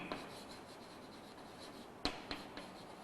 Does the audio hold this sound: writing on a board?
yes